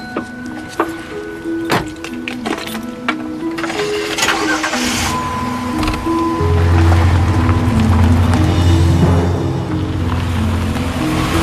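A car door thuds and clicks shut, then a car engine cranks and catches, settling into a loud, steady idle rumble close by. No voices are heard.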